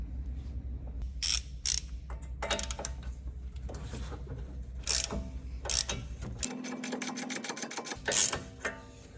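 A wrench works a tie rod nut on a car's steering knuckle, giving repeated close ratcheting clicks and metallic mechanical clatter in uneven bursts, loud and near, with no talking.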